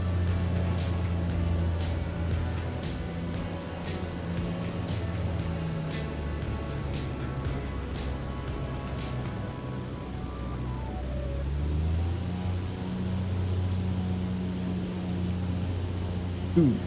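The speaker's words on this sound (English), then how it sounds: "Sounds like there's two big fans on one on each wing of this airplane." Twin propeller engines of a BN-2 Islander in a flight simulator game drone steadily and loudly throughout, a continuous hum with faint rising tones near the end and no talk over it.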